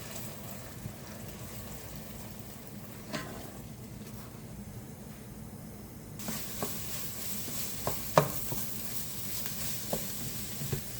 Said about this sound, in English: I will leave them in the frying pan until I see some of the eggs are starting to brown along the edges.